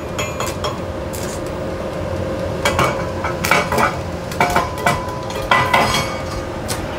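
Stick welding rod tapped against metal while trying to strike an arc, giving scattered short crackling bursts and sharp clicks over a steady background hiss, fairly close and without speech.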